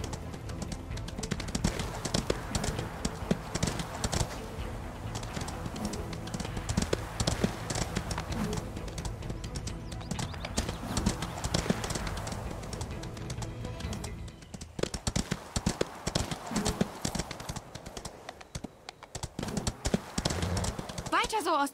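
Horse hooves clip-clop steadily in the riding video game Ostwind, a rhythmic run of hoofbeats that continues throughout while a person talks over it almost constantly.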